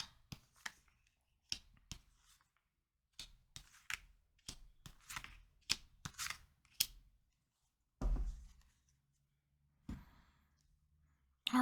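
Tarot cards handled at close range: short papery snaps, slides and shuffles in irregular bursts, with quiet gaps and a breathy sigh near the end.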